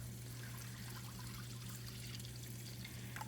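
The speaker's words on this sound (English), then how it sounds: "We're going to go ahead and add in about 2 cups of milk" Milk pouring steadily into a gravy pan, a continuous soft trickle with a low steady hum underneath, close and unbroken throughout.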